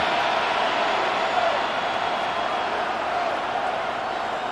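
A stadium crowd in the Madden NFL 26 football video game roars in a steady, dense wash of cheering that holds at an even level throughout.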